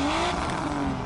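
Car exhaust roar from Need for Speed The Run, a steady, loud engine drone with a rising tone, close and continuous with no talk over it.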